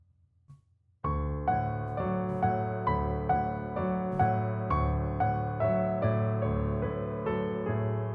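Piano left-hand chords, repeated in a steady rhythm with each chord struck evenly and ringing on, close and clear after a brief quiet start.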